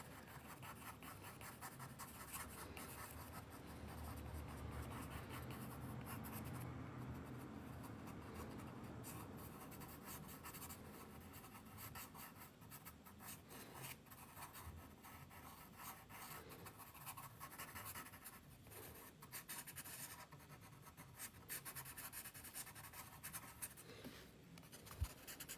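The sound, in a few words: pencil sketching bushes on paper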